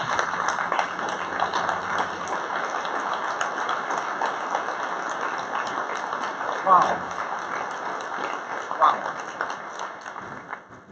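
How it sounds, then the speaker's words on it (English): Audience applause at an awards recognition event honoring Most Wired recipients, a steady sustained round of clapping from a crowd in a large room, with brief spoken exclamations over it. "Let us congratulate you with a round of applause."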